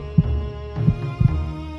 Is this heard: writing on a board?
no